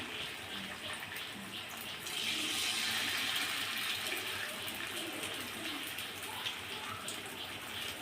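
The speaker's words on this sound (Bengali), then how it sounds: "আস্তে আস্তে এভাবে অল্প অল্প করে বড়াগুলো ছেড়ে দেবেন তেলে।" Fritters made from thankuni (Indian pennywort) leaves sizzle in hot oil with a continuous, fairly soft hiss that grows a little louder partway through as more batter goes in.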